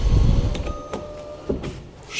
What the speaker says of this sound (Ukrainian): Шторки на задніх дверях.